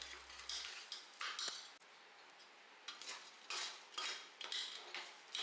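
Rice is turned over in masala in a pan, with repeated bursts of spatula scraping and metallic clinks against the pan, close and fairly quiet, separated by short pauses.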